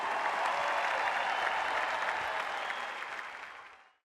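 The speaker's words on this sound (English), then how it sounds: "let's have one more round of applause for Martina Navratilova and Bob" A large audience applauds Martina Navratilova and Bob Bryan with sustained, dense clapping that holds steady before fading out over the last second.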